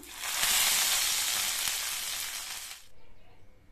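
A sharp burst of sizzling as hot oil tempering is poured into Mysore rasam, loud at first and gradually fading over a few seconds before stopping abruptly.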